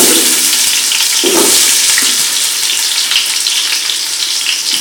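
Onions and green chillies frying in hot oil with whole spices for a Tamil-style dum biryani, a loud steady sizzle filling the whole stretch with a brief stir partway through.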